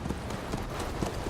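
Horse hooves clip-clop in Metal Gear Solid V: The Phantom Pain, a brief, muffled stretch of steady hoofbeats under a broad rumbling wash.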